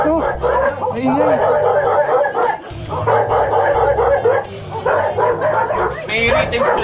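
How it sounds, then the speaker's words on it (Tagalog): Many dogs bark, yip and whimper together in a loud, overlapping chorus close by, with brief pauses between bursts; no one speaks over the barking. "Grabe, dami aso."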